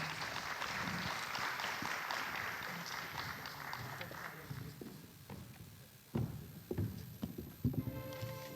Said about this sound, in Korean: 자, 여러분들 큰 박수 한번 부탁드리겠습니다.